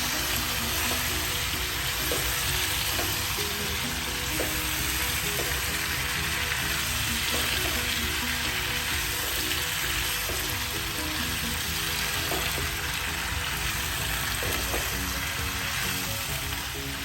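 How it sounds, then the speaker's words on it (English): Pumpkin stirred into a frying curry of radish, potato and leaves in a kadai, a dense, even sizzle throughout with faint periodic scrapes of the spoon, close and steady, no voices. "the last ingredient, that's the pumpkin, and a good mix"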